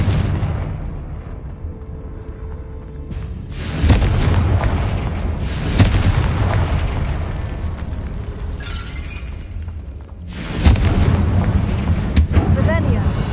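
Confringo spell explosions in the video game Hogwarts Legacy: several booming blasts spaced a few seconds apart, each swelling into a broad rumbling roar over steady background game noise.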